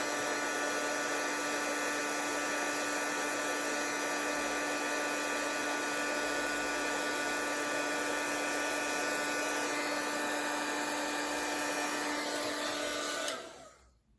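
Heat gun for heat embossing powder on a handmade greeting card, a steady loud blowing whine with a constant tone running unbroken for about thirteen seconds before cutting off.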